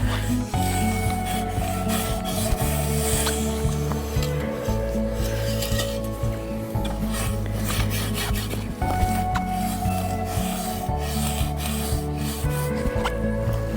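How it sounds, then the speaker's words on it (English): A rake drags grass out of garden soil in continuous, loud, close scraping and rustling strokes, with no voices. "There's a lot of grass in here that we needed to rake up too."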